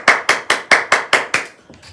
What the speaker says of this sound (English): So round of applause to Kimberly.